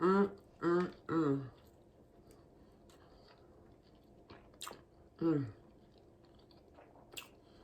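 Someone bites into a warm baked apple oatmeal muffin topped with cinnamon and walnuts, giving soft close chewing and moist squishing between short bursts of speech.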